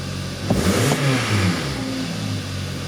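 A Hyundai car engine with a throttle control fault revs twice in quick succession, rising and falling over a steady mechanical hum, close and fairly loud.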